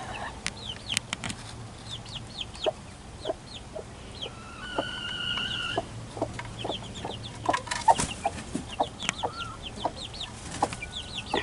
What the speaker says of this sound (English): Her little clucking sound.